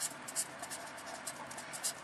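A pen scratches across paper in short, faint, close strokes while a math exercise is worked out by hand.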